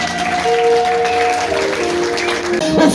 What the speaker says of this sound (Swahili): unaweza kwenda kumpigia Yesu makofi mengi